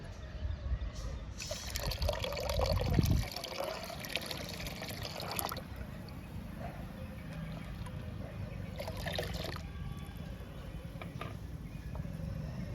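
Diluted coffee-grounds liquid fertiliser splashes and trickles into a 10-litre bucket, with a louder gush early on, then a steady low pour continuing quietly.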